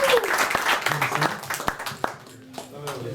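Audience applause at a May Day 2019 socialist event in a café, brief scattered clapping that rises and then thins out, with voices talking over it and a few sharp individual claps standing out.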